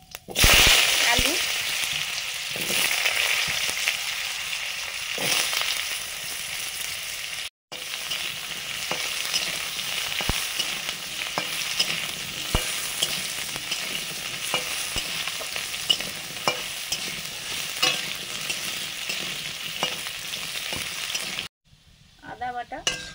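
Potatoes frying in mustard oil with squash, stirred steadily in a pan: a continuous close sizzle broken by repeated scraping and clattering stirs, with a couple of brief pauses.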